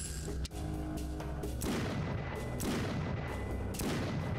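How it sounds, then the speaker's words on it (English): Magnum shots in the indie first-person shooter Brutal State come as loud booming reports over a dense, continuous game soundscape, with sharp hits near the start and several more across the few seconds. "Two magnum shots to the face?"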